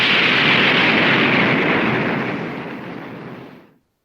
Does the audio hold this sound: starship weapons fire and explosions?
yes